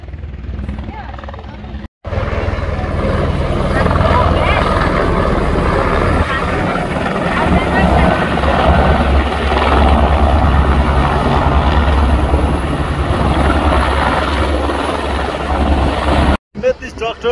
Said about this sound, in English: So this is the helicopter, it's almost here